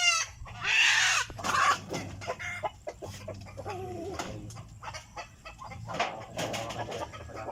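Native chicken of Rhode Island lineage on a small farm clucking repeatedly at close range, with bursts of louder calls among other bird sounds and a steady low background hum.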